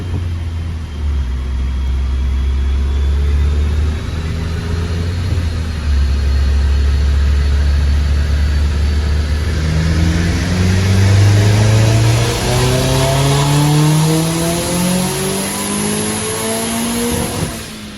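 A turbocharged Nissan Cube running on ethanol revs under boost: a loud, close engine note climbs steadily in pitch over several seconds as the turbo spools, with a constant droning roar and no talking.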